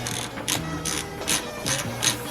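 Rapid ratchet clicking on a Honda S2000 while a 10 mm socket loosens the air box bolts, several quick bursts of close metallic pawl ticks in an uneven rhythm.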